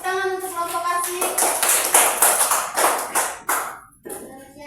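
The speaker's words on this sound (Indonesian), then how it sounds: "Tepuk tangan untuk kelompok asik." Classroom applause for a student group, a burst of clapping with mixed voices over it, tapering off near the end.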